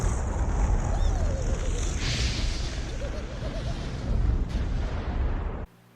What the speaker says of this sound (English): the town suffers a nuclear explosion